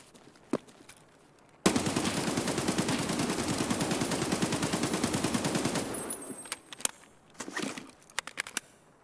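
Sustained automatic AK-74 rifle fire in Escape from Tarkov, a dense rapid burst lasting about four seconds, loud and close, then a few scattered single shots and clicks.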